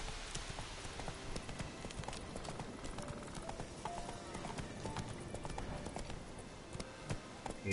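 Roach, Geralt's horse in The Witcher 3: Wild Hunt, clip-clops along in steady, rhythmic hoofbeats that run throughout, moderately close. Voices talk over them in places.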